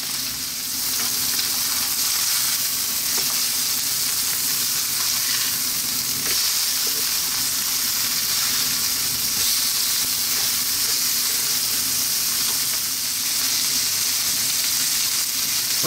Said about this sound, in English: I'm gonna cook these for about 4 minutes on each side on this high heat.